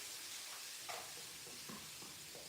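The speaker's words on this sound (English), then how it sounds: "You hear the sizzle." Vegan omelette mixture sizzling in a frying pan, a constant faint crackling hiss with occasional soft pops.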